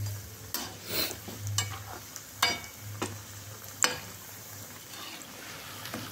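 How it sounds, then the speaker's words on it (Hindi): Cauliflower pakoras fry crisp in hot oil over a high gas flame, giving a steady low sizzle with a few sharp clinks and scrapes from stirring spaced across the stretch, no voices. "इस तरह से फ्राई करने से पकौड़ियाँ बिल्कुल क्रिस्पी बनेंगी"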